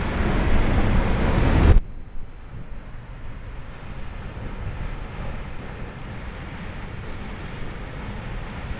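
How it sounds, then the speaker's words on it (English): Hurricane-driven surf pounds the south shore of West Whale Bay, a loud crashing burst up front giving way to a steady wash of distant waves and wind noise. "this is about as close as one can get to these waves that are crashing in"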